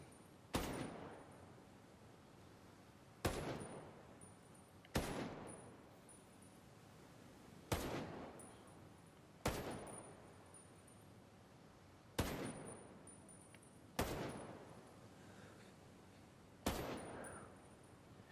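ACR 5.56 assault rifle in Ghost Recon Breakpoint firing single rounds, eight sharp booming shots spaced a few seconds apart, each with a lingering echo tail, loud against a quiet background without speech.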